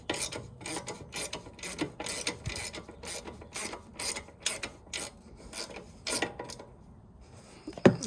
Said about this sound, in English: I may actually use a ratchet.